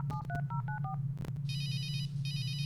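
Telephone dial tones from a video game, several short dual-tone beeps in sequence, followed by a steady electronic ringing burst that repeats, all over a constant low hum with no voices.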